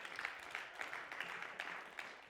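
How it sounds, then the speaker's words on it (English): A church audience claps for a worship team after a song, a thin, fairly faint patter of hands with soft repeated bursts. "Let's give a round of applause just for the worship team."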